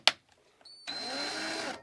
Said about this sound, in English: all you got to do is basically just back the drill off a couple of turns